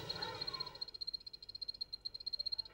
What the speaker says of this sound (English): there's a male of these Phyla Medusa calling